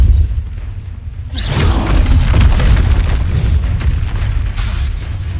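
A Confringo explosive spell in the Hogwarts Legacy video game hits with a sharp whoosh and a heavy, loud boom, then a rumbling blast that lingers for several seconds.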